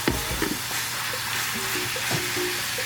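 Thin-shaved ribeye steak sizzles and crackles steadily in a hot pan, with scraping stirring knocks over the continuous frying hiss.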